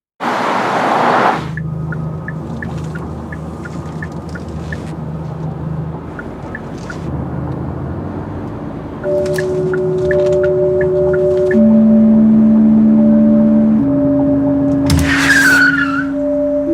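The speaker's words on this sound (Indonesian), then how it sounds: "Dia terus berputar-putar mengendarai mobil dengan jalan yang sama" A car driven repeatedly around the same circular route, its tires skidding and squealing in long sustained whines over a steady engine drone, loud and close with no talk.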